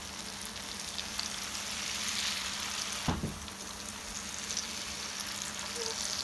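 Batter of peanut peyek, an Indonesian peanut cracker, frying in hot oil, a soft, steady sizzle close by with a single brief clunk partway through.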